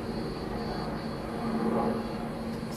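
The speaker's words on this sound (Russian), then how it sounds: "видите, еще один вертолет, он вниз пошел воду набирать" A firefighting helicopter flies over a burning forest near Marmaris, Turkey, a faint, distant, steady engine drone that swells slightly midway, with no voices.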